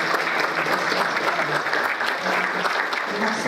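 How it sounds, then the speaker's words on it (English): Audience at an intelligence workshop at Kentucky State University breaks into steady, loud applause, a dense wash of many hands clapping throughout. "I would like you all to give them a round of applause to thank them for this wonderful."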